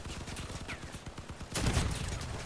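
Barrel cannons fire in the vehicle combat game Crossout, a rapid fusillade of booming shots with a louder, denser burst near the end, heard alone without talk.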